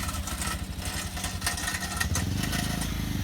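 A stunt motorcycle's engine at a bike stunt academy in Delhi putters and revs in uneven bursts during rider training, a close, throaty, pulsing throb that rises and falls under light background noise.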